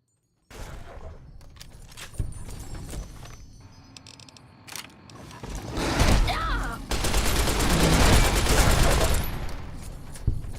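A 12.7 mm submachine gun from a Fallout game mod firing at Deathclaws, with rapid bursts of gunfire that swell into long, loud sustained automatic volleys layered with impacts and creature noise.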